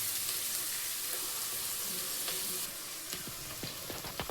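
Mushroom gravy ingredients sautéing in a pan, a close, steady sizzle that thins out midway, followed by a few sharp scraping and stirring clicks toward the end.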